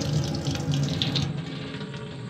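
Water gushes from the tap of an indoor off-grid water tank into a bucket, a steady close splashing stream with a gurgling tone that shifts slightly partway through.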